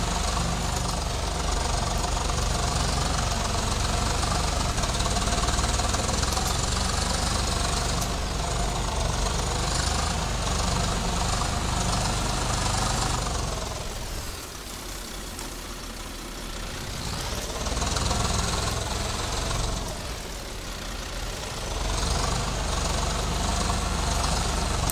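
A Swaraj 855 tractor engine runs in Farming Simulator 22, a loud, steady diesel drone with knocking texture that dips briefly and then revs back up, alone without talk.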